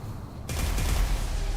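A flashbang bomb thrown in the video game Atelier Resleriana goes off with a sudden loud blast that swells into a dense, roaring burst of noise and holds for about a second.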